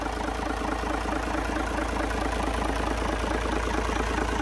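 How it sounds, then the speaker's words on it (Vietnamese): A Cummins C300 diesel engine idling close by, a steady low rumble with an even throbbing knock that holds without change, running alone with no talk. "Giờ sẽ cho anh em thợ lủ máy đây."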